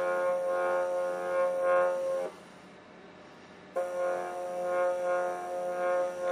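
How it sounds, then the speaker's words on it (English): A stepper motor driven by a Toshiba TB6560 driver at 1/16 microstepping hums with a steady tonal whine, stopping briefly partway through before resuming, close and clear, with no talking. "so the motor's humming a bit."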